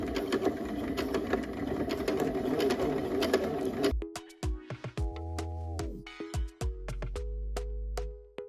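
A sewing machine hums and stitches joggers in a steady run for about four seconds, then gives way to short stop-start bursts and clicks of the mechanism.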